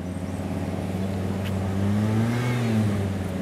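A motorcycle engine idles and then revs up, producing a low steady rumble that swells and falls back, close by and continuous, with no speech over it.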